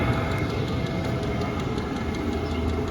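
A diesel heater runs at full throttle in a basement, giving a steady, loud, dense mechanical rumble and roar that holds constant throughout with no pauses.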